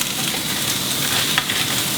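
Onions, shallots and mushrooms sauté in a pan left with browned bits from cooking salmon, producing a loud, dense, continuous sizzle close by.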